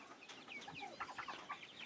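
Grow-out Lavender Splash chickens, roosters and a hen, keep up soft, overlapping clucks and chirps at close range, a low steady chatter with no voices.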